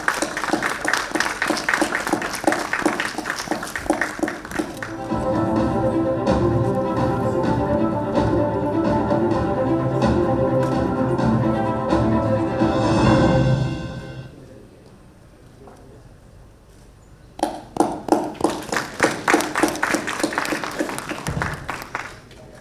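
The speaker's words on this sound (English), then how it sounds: "Big round of applause." An audience at a sustainability summit award ceremony claps in a dense, close burst, then music with a steady beat plays for several seconds and stops, and clapping returns strongly near the end.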